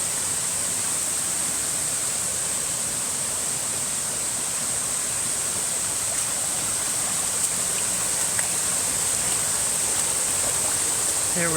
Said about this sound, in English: Here we have the waterfall.